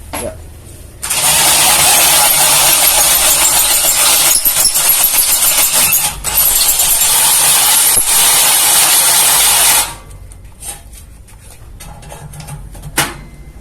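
A Kamolee 10mm brushless drill is pressed hard under load, roaring loud and steady for about nine seconds with a brief dip midway, then cutting out and leaving faint handling clatter.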